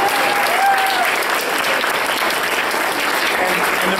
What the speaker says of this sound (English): I think we need to give another round of applause to Steve and Nancy and Leanne